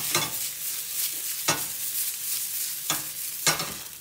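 Broccoli, asparagus, shiitake mushrooms and tomatoes fry in a pan with a steady bright sizzle, broken by four sharp stirring scrapes spaced about a second apart, loud and close with no voices.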